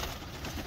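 A pet pigeon coos softly at close range in a quick, low, murmuring call, brief and faint against a hissy background.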